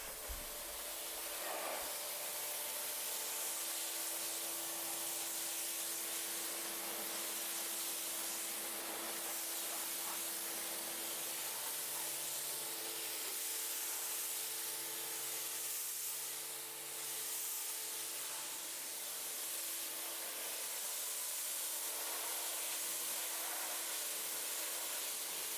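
A water spray rinses car shampoo off a dark car, a steady, continuous hiss that runs unbroken for about twenty-five seconds with no voices.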